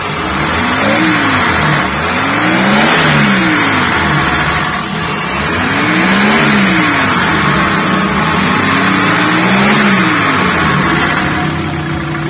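The 1500 cc engine of a 1980s Mitsubishi Colt T120 runs close by and is revved repeatedly, its pitch rising and falling in several smooth surges over a steady idle.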